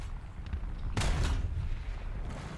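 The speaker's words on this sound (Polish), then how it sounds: "Jeszcze strzał do Pantery." A tank cannon fires at a Panther in the War Thunder video game: one sudden loud blast about a second in, followed by a rumbling decay over low, steady background noise.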